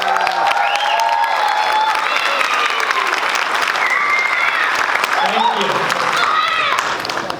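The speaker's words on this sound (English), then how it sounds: "Could you please give the biggest reward of applause and give some noises," Audience at a Nepal Night cultural event breaking into loud, sustained applause with cheering and whistles, a dense crowd roar lasting throughout before easing at the end, with voices mixed in.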